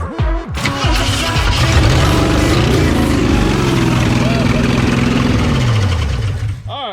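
1963.5 Ford Galaxie 500 Hardtop V8 cranking and catching after sitting for decades, a quick whirring crank then a loud, rough, steady running idle close by that fades out near the end, with voices briefly audible.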